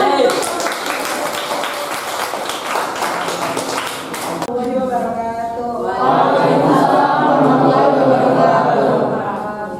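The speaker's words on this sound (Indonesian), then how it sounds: "Beri tepuk tangan." A classroom of twelfth-grade students claps together in a dense, steady burst for about four seconds, then voices take over, talking close by for the rest.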